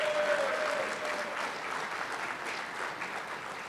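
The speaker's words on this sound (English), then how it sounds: "Give our brother a round of applause." Sustained applause from an audience at a men's breakfast gathering, dense and steady throughout, with a brief faint tone near the start.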